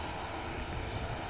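EasyJet airliner at Manchester Airport, its jet engines giving a steady broadband roar that holds level and fairly loud throughout, with no voices.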